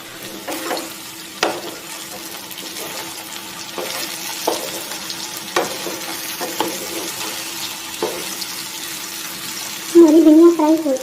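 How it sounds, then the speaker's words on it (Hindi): Okra (bhindi) frying in hot oil in a home kitchen, a steady low sizzle with scattered stirring clicks and a louder burst of crackle near the end; no talking. "भिंडियाँ फ्राई हो रही हैं।"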